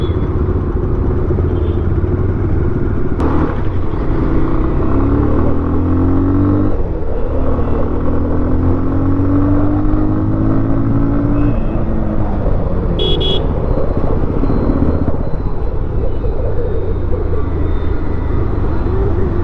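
A 2020 Bajaj Pulsar 220 BS6 motorcycle on a test ride, its engine rumbling steadily and close with wind noise, the pitch rising and falling through gear changes.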